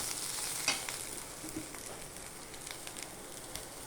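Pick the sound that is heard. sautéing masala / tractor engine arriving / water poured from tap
sautéing masala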